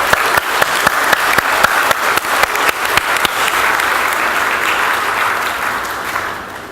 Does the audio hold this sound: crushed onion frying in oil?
no